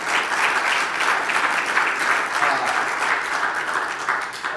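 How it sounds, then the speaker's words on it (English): Audience applause after a talk on human-scale building and architecture, a sustained, even wash of many hands clapping that holds steady and eases slightly at the end. "let's give another round of applause for Thomas."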